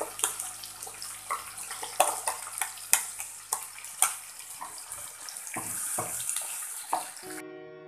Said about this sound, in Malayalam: ഞാനിവിടെ ഒരു ഒന്നര ഗ്ലാസ്സോളം വെള്ളം ചേർത്ത് കൊടുക്കുന്നുണ്ട്